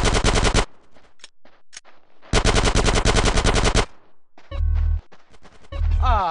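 Video game gunfire from GTA San Andreas: two long bursts of rapid automatic fire, then scattered single shots and short bursts, loud and close with brief pauses between.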